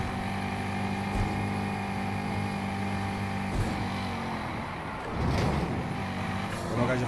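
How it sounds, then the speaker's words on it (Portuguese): Chevrolet Corvette Grand Sport engine in the racing game Need for Speed Heat, a steady droning hum with layered tones that swells and roughens near the end, running throughout with faint talk underneath. "Não passa, mas já está aqui com o motor. Já estou a ouvir o motor aqui, velho."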